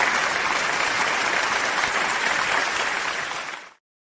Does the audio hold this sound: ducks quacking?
no